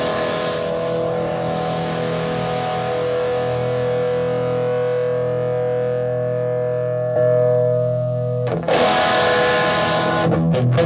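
Electric guitar through a Roland JC-120 amp with its distortion switch on, a thick sustained chord ringing with a chorus-like shimmer, then a fresh louder strum near the end, heard alone without talk.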